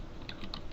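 A few faint, quick keystrokes on a computer keyboard, close and quiet, with no talking.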